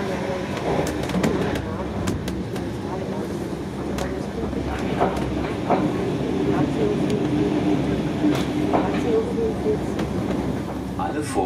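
Steady rumble and rattle from inside a Deutsche Bahn Intercity 2 double-deck train running from Konstanz to Dortmund, a continuous broadband ride noise with occasional clicks and knocks, and faint voices in the background.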